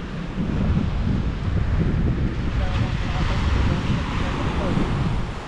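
Strong wind blows at a shore facing a reef, a steady loud broadband roar with surf and gusts buffeting the microphone throughout; no speech.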